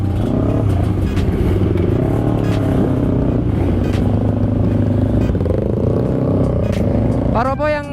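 Motorcycle engine running steadily and loud throughout a night ride, a continuous close drone with small shifts in pitch, then a brief rising rev at the very end.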